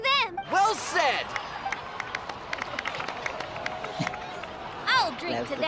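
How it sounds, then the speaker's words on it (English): Crowd applause and cheering in the Genshin Impact video game, a busy mid-distance wash of clapping with a few whistle-like rising tones and short bursts layered on top. "please give another round of applause for them"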